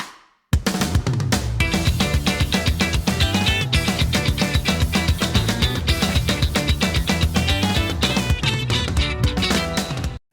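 Fast guitar octave riff from a short piece, a dense rapid stream of picked notes driving continuously and loudly for about ten seconds, with no talking.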